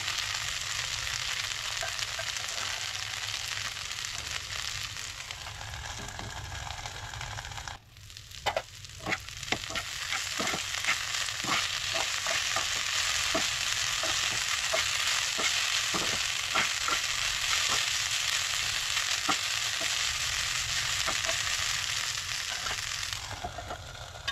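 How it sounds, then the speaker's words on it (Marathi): Cauliflower roasting in a pan, a steady broad sizzle punctuated by a brief lull, then a run of quick scraping and stirring clicks, close and fairly loud throughout, no voices. "फ्लावर जो न्हय बरो भाजपाक जाय"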